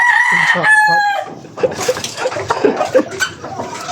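A rooster crows loudly and close by, one drawn-out call, followed by softer clucking and murmuring from fowl.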